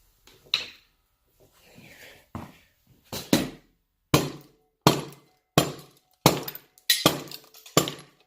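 A hammer strikes engine parts during a partial teardown of a 3800 engine, with a few faint taps first, then about eight sharp metallic knocks at a steady pace, close and loud.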